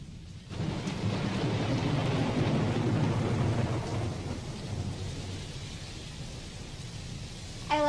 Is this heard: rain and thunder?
yes